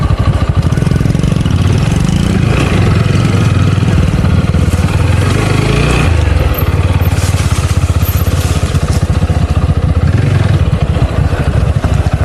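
A motorcycle engine runs steadily close by, a loud continuous low throbbing drone with slight swells in pitch, unbroken throughout.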